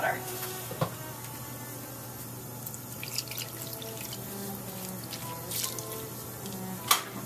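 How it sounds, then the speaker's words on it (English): About half a cup of water is poured into thick banh bot chien rice flour dough in a kitchen, a soft steady trickle with light splashes and drips over a constant background hum. "we're going to add about a half a cup of water"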